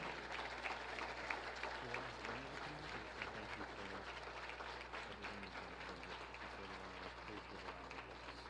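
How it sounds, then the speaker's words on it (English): Sustained applause from a crowd at a school district State of the Schools address after a performance, a dense wash of clapping that continues without pause, heard at a distance. "Please give them a round of applause."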